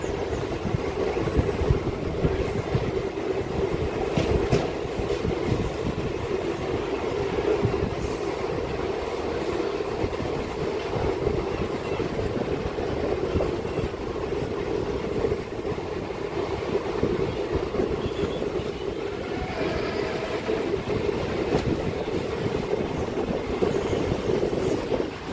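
DEMU local train between Malkajgiri and Siddipet running steadily, heard from inside as a constant loud rumble with rhythmic wheel clatter and faint squeals, no voices.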